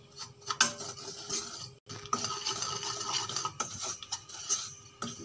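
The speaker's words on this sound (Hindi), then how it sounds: "हमने चम्मच हिलाते रहना है।" A metal spoon stirs suji kheer in a pan, with soft repeated scraping and clinking against the metal, fairly quiet and close, broken by a brief pause near the middle, no voices.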